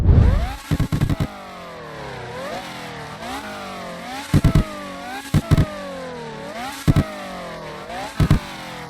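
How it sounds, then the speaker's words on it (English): A Ferrari F50 in Roblox Midnight Chasers revs repeatedly up to its rev limiter. Rising engine whines climb, then stutter into rapid, choppy limiter bursts, cycle after cycle, loud and close. "as you can definitely hear, the rev limiter is way different from the rest"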